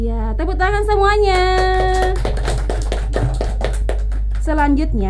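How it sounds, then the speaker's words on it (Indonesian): Children clapping hands together at a kindergarten gathering, a run of quick sharp claps in the middle, with a voice and singing-like speech before and after over a steady low hum. "Ya, tepuk tangan semuanya"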